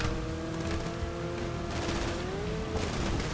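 Sustained rapid gunfire from shooting at enemies in a video game, a dense fusillade of continuous shots running throughout with a steady tonal hum underneath.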